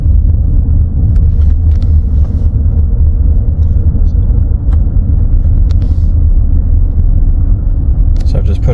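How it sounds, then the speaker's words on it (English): A 2018 Ford F150 running in four-wheel drive gives off a loud, steady low roaring drone from its drivetrain, close and continuous, with occasional faint clicks and knocks above it. "If I turn it to four-wheel drive, you hear the noise"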